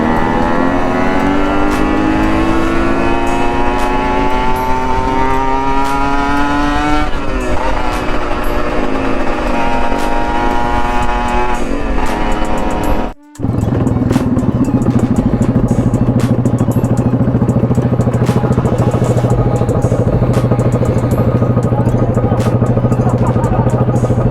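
A motorcycle engine runs loudly and continuously, its pitch climbing as it revs, then dropping out briefly before settling into a steady, lower roar.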